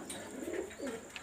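Young fancy pigeons from a breeder's loft cooing softly, two short throaty rolls close by, quiet and alone with no voices.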